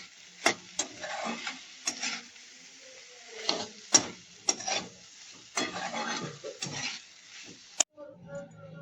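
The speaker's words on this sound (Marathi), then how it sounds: "आपण हलवून घेणार." A mixed vegetable bhaji with moong sprouts and potato is stirred in a pan, a spoon scraping and clacking in irregular close strokes over a faint sizzle.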